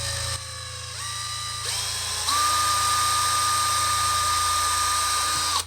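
A 1/8 inch bit drills out a soft plastic fuel pump return line on a Walbro 255 fuel pump for an Eclipse or Galant. The drill whines steadily, stepping up in speed a few times, sounds close and loud, and stops abruptly at the end.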